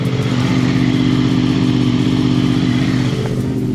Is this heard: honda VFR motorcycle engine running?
yes